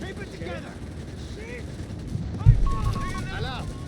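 Machine gun bursts from a Company of Heroes 3 match, German forces against US forces, rattling in short volleys with a heavier impact midway, set under continuous commentary from a caster.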